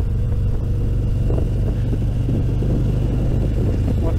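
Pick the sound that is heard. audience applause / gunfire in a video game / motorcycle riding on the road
motorcycle riding on the road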